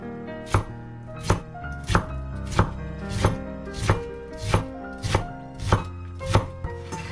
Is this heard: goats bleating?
no